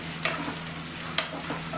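Potatoes semi-frying in a pan for dum aloo, with a soft continuous sizzle and two distinct scraping stirs of a spoon.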